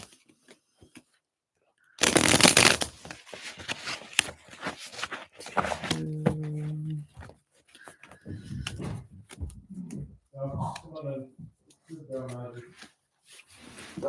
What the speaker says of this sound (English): I'll shuffle it for you.